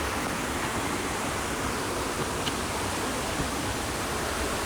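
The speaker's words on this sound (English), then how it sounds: "there's one hidden waterfall out there." A hidden waterfall gives off a steady, even rush of falling water, heard from some distance, faint and unbroken with no voices.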